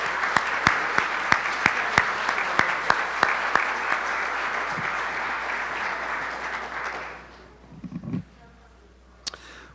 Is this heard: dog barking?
no